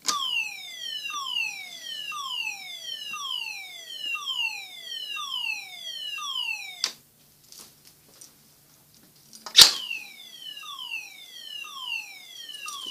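A mini fire alarm sounds during a test, repeating rapid falling electronic sweeps in a steady pattern. It is loud and close, then stops for about two seconds before a sharp click and the sweeps resume.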